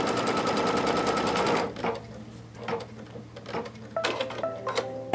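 An embroidery machine stitches a tack-down line for front and back fabric pieces, a steady loud rapid whir that stops after about two seconds, followed by sparse clicks and brief mechanical bursts.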